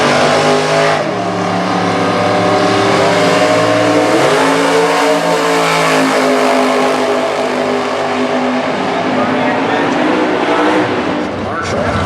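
Super Gas drag race cars, among them a Pontiac Firebird with a 517 cubic inch engine, drone loudly and continuously, with engine tones shifting as they rev, beneath an announcer speaking over the noise.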